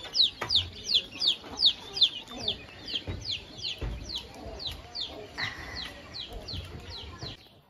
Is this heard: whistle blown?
no